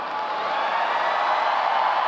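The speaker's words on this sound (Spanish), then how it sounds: "que se siente el aplauso" Steady, dense audience applause and cheering at a drag show grand finale, a continuous wash of clapping from a large crowd with no gaps.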